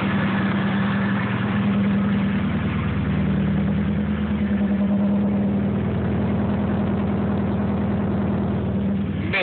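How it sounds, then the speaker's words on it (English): Nissan 240SX engine idling steadily with a noisy pulley, a continuous close mechanical drone with a faint whirring and rattling layer throughout, heard alone. "You can hear that pulley real bad."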